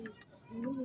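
A blue bar pigeon gives a soft, brief low coo, close and fairly quiet, about a second long.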